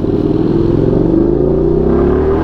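A Suzuki SV650 motorcycle engine drones loudly and steadily on a night ride, its pitch climbing gradually as it revs through a downshift, with no voices over it.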